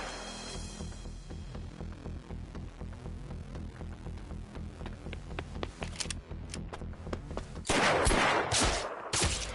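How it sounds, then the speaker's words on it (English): Gunshots in a Yakuza video game cutscene: a rapid burst of sharp shots near the end, loud and close, following a quieter stretch of low ambient sound. "Terada was shot."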